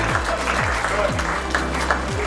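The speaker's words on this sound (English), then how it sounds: "May I request you all to please applaud this name." An audience applauding at a book publishing launch event in India, steady mid-level clapping filling the room while a speaker's voice carries over it.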